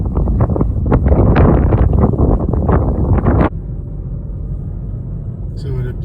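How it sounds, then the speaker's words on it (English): Strong wind buffets the microphone at the Pikes Peak summit in the Rocky Mountains, a loud low rumble for the first half that drops to a steadier, quieter roar. "Wind is starting to pick up too."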